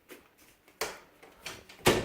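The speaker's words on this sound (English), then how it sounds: "Shut the door." A room door being shut, a few soft knocks and shuffles leading to a sharper, louder thud near the end, close by with no speech.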